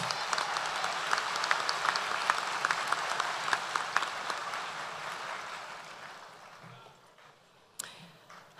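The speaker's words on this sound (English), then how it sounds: "So a big round of applause for our student musicians." Applause for student musicians at a university spring commencement ceremony, a broad steady wash of clapping from a large audience that fades over several seconds before a brief thump near the end.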